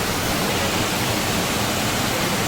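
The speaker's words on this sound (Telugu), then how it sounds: "This is జాగరం water falls." Jagaram waterfalls send down rushing water in a dense, loud, continuous roar with no break and no voices.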